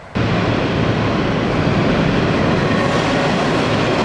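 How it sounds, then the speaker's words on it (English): An old Orange Line subway train passing at Forest Hills station during rush hour, a loud, steady roar of wheels and rail noise that rises quickly at the start and holds close and constant throughout. "It's an old Orange Line train."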